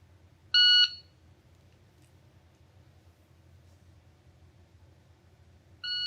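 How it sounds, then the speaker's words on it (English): A shot timer gives two short, loud, high-pitched electronic start beeps, one near the start and another at the end, over a quiet low background hum. "Basically, I push a button and it gives me a beep"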